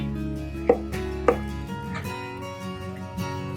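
A kitchen knife cuts a melon radially into pieces on a board, giving a few distinct chopping knocks spaced apart over a steady low hum, close and moderately loud, with no one speaking.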